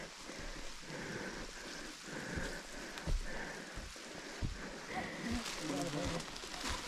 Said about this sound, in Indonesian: Masih hujan.